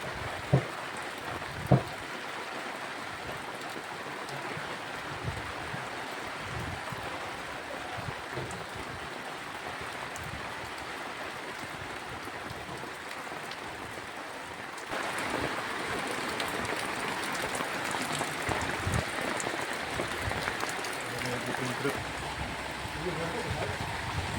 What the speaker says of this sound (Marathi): बघा पाऊस किती जोरात आलाय